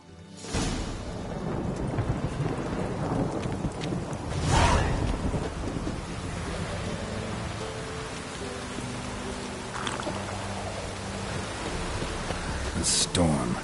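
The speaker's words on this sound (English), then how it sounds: "A storm, damn it." A thunderstorm brings heavy rain, a dense, steady roar of falling water. A deep thunder rumble swells in the middle, and sharper cracks break through later.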